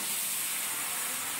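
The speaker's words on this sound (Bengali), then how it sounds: "আলাদা আলাদা করে ভেজে নিচ্ছি" Pieces of pointed gourd and potato fry in a pan, making a brief, steady, close hiss and sizzle without any voices.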